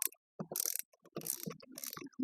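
A long socket wrench ratcheting to expand a bearing collet held with grips, delivering several short bursts of clicking pawl and metallic turning separated by brief pauses, close and fairly quiet.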